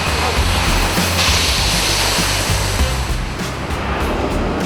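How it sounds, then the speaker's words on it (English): Pasta-making machines in a pasta factory produce a loud, steady, dense roar of machinery, a continuous broadband rumble close by with no clear breaks and no voices. "This is a pasta factory, and all these machines mean it's very noisy."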